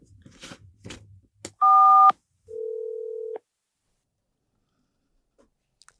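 Telephone dialing tones sound in a quiet room: a short, loud dual-pitched beep followed by a longer single steady tone, after a few faint clicks and handling noises.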